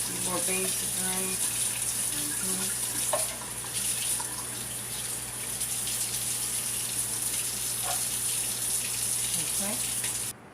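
Liquid from canned beans pours and drains into a kitchen sink for a bean pie, a steady close rush of running water with brief clinks and faint background sounds.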